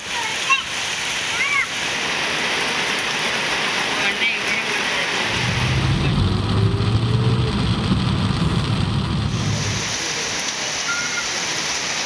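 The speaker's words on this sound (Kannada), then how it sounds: "ಧಾರಾಕಾರ ಮಳೆಗೆ ವಾಹನ ಸವಾರರು ಪರದಾಡುವಂತಹ ಸ್ಥಿತಿ ನಿರ್ಮಾಣವಾಗಿದೆ" Heavy rain pours onto a waterlogged city road in Tumakuru, a dense continuous hiss and splash, loud and close, with a deeper rushing surge midway as vehicles pass through the water.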